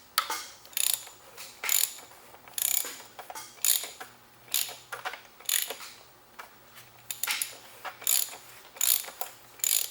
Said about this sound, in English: I am using a 25mm socket to get that cap off of the filter